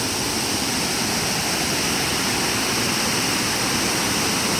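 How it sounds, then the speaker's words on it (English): The double waterfall at Minneopa State Park, Minnesota, roars in a dense, continuous rush of falling water, loud and unbroken with no voices. "I just wanted to share with you the double waterfall that's here."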